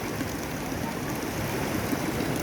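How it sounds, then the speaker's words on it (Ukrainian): A waterfall rushes in a steady, broadband flow, fairly close and continuous, with no voices over it. "Цей водоспад."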